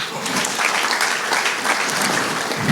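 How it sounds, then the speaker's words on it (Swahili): A church congregation claps steadily for the Lord: dense, continuous applause from many hands, loud and sustained for about three seconds without a break. "Pigie Bwana makofi."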